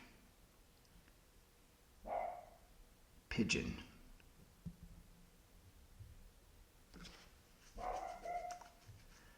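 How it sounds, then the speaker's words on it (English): Several dogs bark in short, separated bursts at a moderate distance, with brief pauses between outbursts, over a quiet indoor background with occasional voices. "the dogs are annoying. I'll be back once they stop barking."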